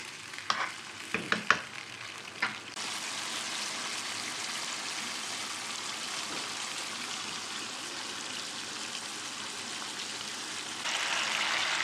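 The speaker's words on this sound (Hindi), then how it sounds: "अब दही डाल के इसको अच्छे से मिक्स करूँगी।" Yogurt being stirred into green chicken karahi: a few spoon clacks against the pot at first, then a loud, steady sizzle that holds to the end, with no talking.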